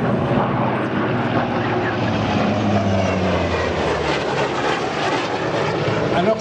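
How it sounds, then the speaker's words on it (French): High-performance propeller aircraft flying in formation at an air show, a loud sustained engine roar with shifting pitch as the planes pass, steady throughout, with no speech over it. "En patrouille, un avion à hélice, certes un avion à haute performance qui va vite, bien piloté"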